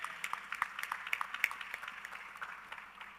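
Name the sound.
audience applause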